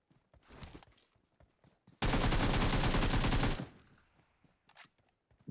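A loud, continuous burst of automatic gunfire rattles for about a second and a half during a PUBG Mobile firefight, with quieter scattered shots and movement before and after.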